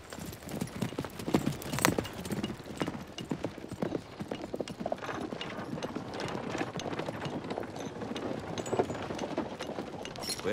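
Horse hooves clip-clop at a steady, fairly close pace through a period action film scene about Gaulish druids, with occasional faint background noise and no talk.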